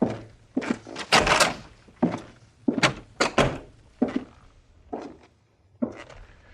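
Radio drama sound effects of a door being worked, a series of solid wooden thunks and clicks in an irregular rhythm, close and fairly loud, with no talking.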